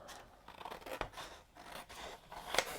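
Scissors cutting around paper for a handmade birthday card, several close snips and crisp paper rustles, quiet and intermittent, with the sharpest cut near the end.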